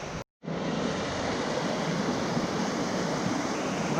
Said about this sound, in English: Still a nice little waterfall, but compared to the other one,